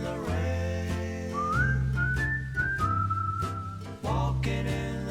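A person whistles a melodic tune alone, clear and close, with smooth sliding pitches over a steady musical backing.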